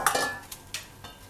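Caramel popcorn tipped from the cooking pan into another vessel, giving a few brief, close clinks and rattles of kernels against metal.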